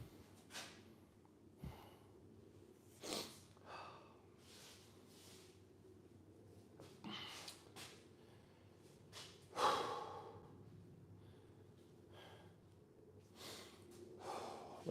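Heavy breathing follows a set of barbell squats: close, ragged inhales and exhales recur every second or two, some sharp and gasping, fairly quiet against a faint background hum.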